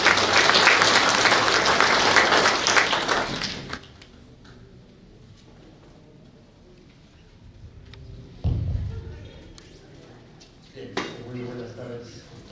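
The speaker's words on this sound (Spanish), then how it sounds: "a quien le tributamos un cariñoso voto de aplausos" Audience applause at a university research lecture, a dense burst of clapping for about four seconds that fades out, followed by quieter room sounds and a few scattered knocks.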